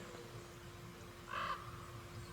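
A crow caws once in an animated show, a single short call rising briefly above a steady low background hum.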